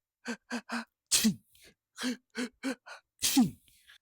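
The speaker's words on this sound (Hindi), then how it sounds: "अब लगातार छींक रहा है कथानायक" A narrator sneezes twice in a dramatized Hindi audiobook chapter, each sneeze a sharp burst with a gasping intake, set among short breathy vocal sounds and heard up close with no other speech.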